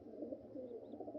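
Pigeons coo softly and close by, a brief low burbling call repeated in quick pulses.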